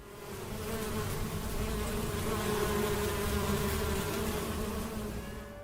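Honey bees swarm around hives at an organic honey farm in an open field in Huila, making a loud, dense, continuous buzzing drone that holds steady close by without a break.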